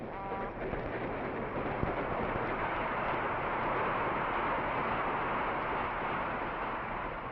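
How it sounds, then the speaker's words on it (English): A steady, roaring rumble of a passenger train rushing along the tracks through a small village, continuous and loud with no pauses, sounding muffled and broad like an old 1940 recording. "His train approaches a small village and dashes on through."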